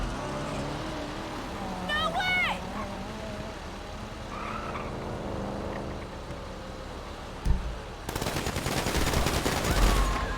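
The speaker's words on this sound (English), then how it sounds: "they're just gunning cops right now" Gunfire aimed at police in GTA roleplay on NoPixel: sharp shots and rapid bursts near the end, after a stretch of people talking over traffic and game noise.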